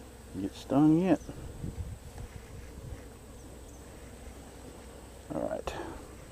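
Honey bees hum softly around a newly opened hive during an inspection, a low continuous buzz under brief nearby speech at the start and end.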